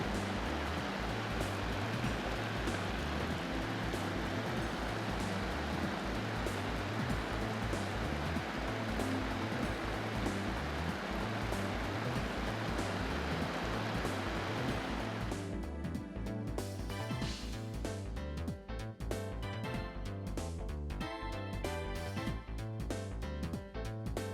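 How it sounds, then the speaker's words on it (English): Simulated heavy rain at 200 mm per hour pours down on an Airman SMS electric compressor, a dense continuous hiss and drumming of water. A rhythmic low mechanical pulsing runs throughout, and the spray thins and patters more sparsely near the end. "For the water-resistant test, we simulated 200 millimeters per hour of heavy rain"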